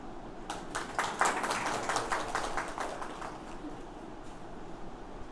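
A school audience at a session gives faint, brief clapping, a short burst of scattered claps rising near the start and then tapering off into quiet room noise.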